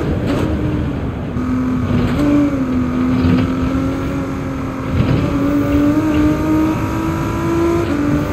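A race car engine in Gran Turismo 7 holds a loud, continuous whine at speed, its pitch dipping and climbing slightly with throttle changes over several seconds, with no talk.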